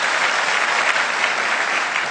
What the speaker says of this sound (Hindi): मैं चाहता हूं एक बार हम उनके लिए जोरदार ताली करें